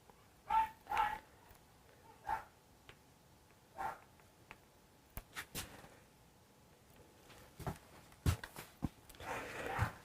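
A puppy barks indoors at a delivery arriving, sharp yips and barks in scattered bursts, several near the start and more later, some loud and close, with quiet gaps between them.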